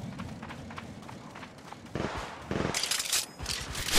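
Video game battle gunfire as Ash in a battle royale, scattered muffled shots early, then sharper bursts of rapid fire and impacts growing louder toward the end.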